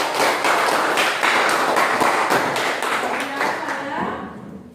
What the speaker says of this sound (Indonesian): Oke, kelompok 2, mari kita berikan aplaus kepada